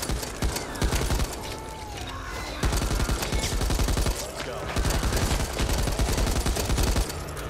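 Long sustained bursts of M249 machine-gun fire in the Back 4 Blood game, rapid crackling volleys broken by brief pauses, loud and close.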